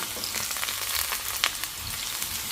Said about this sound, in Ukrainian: Це все вже буде жарити із цибулю.